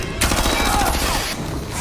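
Burst of automatic gunfire from a 2024 action film as a captain and his men open fire, a dense rapid volley filling the scene loudly from start to finish with no clear pauses.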